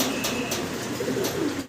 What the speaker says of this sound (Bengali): কো অ্যালমন্ড কালারের ভিতরে নর ডাকাডাকিতে ব্যস্ত আছে